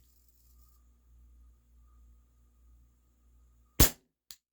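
A WE Tech Bulldog gas blowback airsoft pistol fires one sharp, loud shot after a quiet stretch of low hum, followed moments later by a fainter click.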